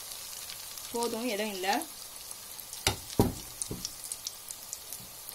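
Potato balls (kola urundai) frying in hot oil over a medium flame, with a steady sizzle, a few sharp clicks and spatters close by, and a short spoken remark near the start.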